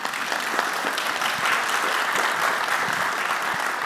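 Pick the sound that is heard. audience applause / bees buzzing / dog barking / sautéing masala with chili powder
audience applause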